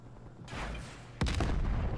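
Sentry gun turrets firing in a video game: a muffled burst of shots, then a sharp, loud blast followed by rumbling, heavier gunfire.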